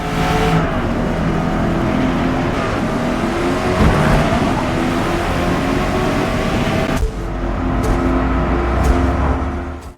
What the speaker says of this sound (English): Maple Valley is the perfect track to put the new Corvette E-Ray through its paces